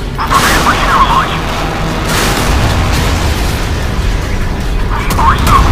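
Naval combat on the guided missile cruiser USS Port Royal in the game Modern Warships, with continuous heavy booming gun and missile fire, loud and dense, and bursts of blasts overlapping a constant roar, with a voice speaking in places.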